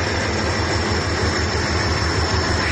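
A train rumbles steadily past close by, a dense continuous roar of wheels and engine with no pauses, loud throughout.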